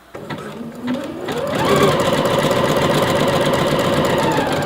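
A sewing machine stitching elastic onto a waistband, its motor ramping up quickly to a fast, steady, close mechanical whir that holds to the end.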